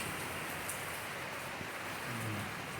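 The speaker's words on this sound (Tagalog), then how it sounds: "Umulan na naman." Steady rain falling in Pangasinan, a continuous even hiss of drops on surfaces with no voices, holding at a constant moderate level throughout.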